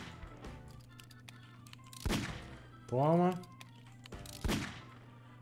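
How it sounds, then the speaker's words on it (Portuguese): Sharp pistol gunshots in the Roblox game Blox Fruits, a few distinct reports spaced over several seconds, loud and close, with a voice talking over them. "só dá um tirinho a mais"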